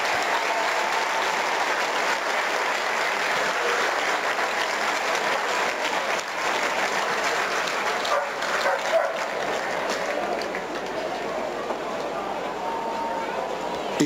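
Sustained applause from a large racecourse crowd after the Großer Preis von Berlin horse race fills the whole stretch, steady and dense, with a voice faintly audible beneath it.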